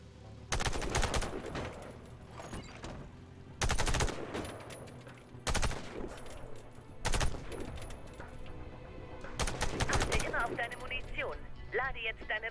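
Gunfire in the shooter game Warface comes in several sharp, loud bursts of rapid automatic shots separated by short pauses, with a steady low game ambience underneath.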